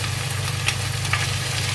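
Shallots, garlic, chili and anchovies stir-fried in a pan, giving a steady close sizzle with a few light scrapes of stirring, under a constant low hum.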